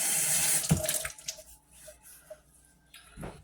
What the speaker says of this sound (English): Don't peel the potatoes. Just wash them. Rinse them off.